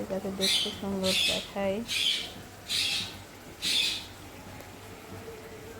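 A pet bird calls repeatedly in a home kitchen, a series of short bright chirps spaced about a second apart, heard faintly while someone speaks briefly at the start.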